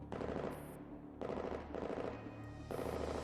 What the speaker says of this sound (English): the sound of unfamiliar gunfire erupts from behind them